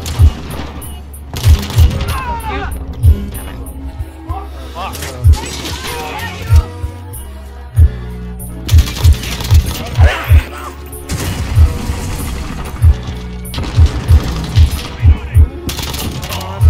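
Rapid bursts of gunfire in the Modern Warfare video game crack out repeatedly in sharp, loud clusters, interleaved with crashes and mechanical clatter while players talk excitedly over the action.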